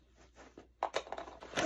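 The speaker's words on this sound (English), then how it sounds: "It zippers." A zipper on a small storage bag is pulled in short, close rasping strokes, a few quick zips rising in loudness toward the end, with no talking.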